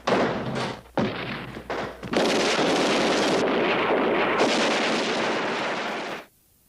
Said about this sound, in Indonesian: Dan tembak-menembak pun terjadi antara polisi dan penjahat.